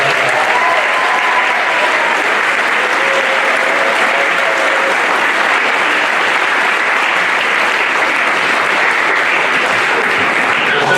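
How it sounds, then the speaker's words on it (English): A community awards night audience gives its award winners a loud, steady round of applause, with thick continuous clapping and faint crowd voices that hold for over ten seconds. "the award winners tonight deserve a tremendous round of applause"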